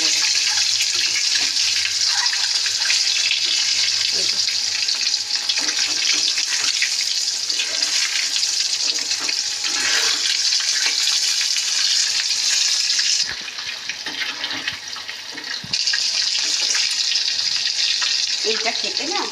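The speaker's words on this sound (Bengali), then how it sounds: "ডিমগুলো সুন্দরভাবে কড়া করে আগে ভেজে নেব" Eggs fry in a pan, giving a loud, close, bright sizzle that runs almost without a break and eases briefly near the end before rising again.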